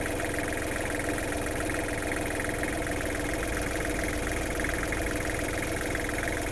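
A Kubota L1-215 Japanese mini tractor's diesel engine idles with a loud, steady, even rumble and a rattle throughout, alone with no voices.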